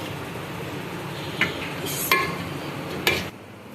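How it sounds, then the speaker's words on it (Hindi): Egg and potato curry is served out of a pot, with a background hiss and three sharp metallic clinks of a ladle on the pot's rim. It ends in a quieter tail. "अब इसको हम डिश आउट कर रहे हैं।"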